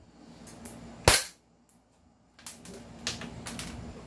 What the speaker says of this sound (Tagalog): Ang Glock normally 300 to 320 FPS. Tingnan natin to. Firing!